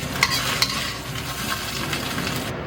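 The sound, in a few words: stir-frying eggs in a wok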